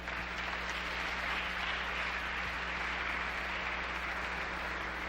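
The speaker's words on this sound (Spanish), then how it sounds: "Les pido también un aplauso para el embajador Montaño." An audience at a panel on the post-development agenda applauds an ambassador, a dense, steady round of clapping from many hands that holds at even loudness throughout.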